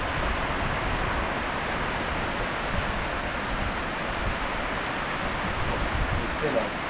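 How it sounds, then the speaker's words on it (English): Rain patters steadily on a raft on a reservoir lake in Khao Laem National Park, Thailand, a continuous soft hiss of drops filling the whole stretch with no voices. "You knew it was going to happen as soon as it starts raining."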